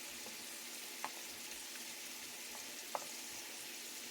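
Onion sautés with garlic in a pan, a faint soft sizzle running steadily with two brief utensil clicks, quiet and close, no voices.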